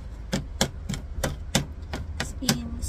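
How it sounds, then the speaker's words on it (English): A knife chops garlic on a cutting board for a Filipino daing fish marinade, about nine crisp, evenly paced taps close by with nothing else over them. "Now let's slice the garlic"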